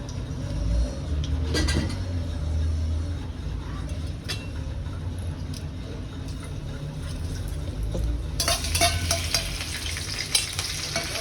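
Leftover millet flatbread (rotlo) tempered and fried in a pan, with a steady loud sizzle and scraping stir strokes close by, growing brighter and crackling more toward the end.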